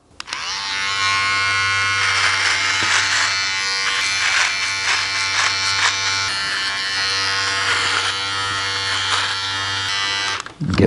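Cordless Braun Beardtrimmer 5 buzzing steadily and close while trimming a beard, a continuous electric hum with slight changes in tone as it moves over the hair, running for about ten seconds.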